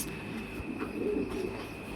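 Bombay satin beauty koka pigeons held for sale coo softly in a steady, low murmur, with no talk over them.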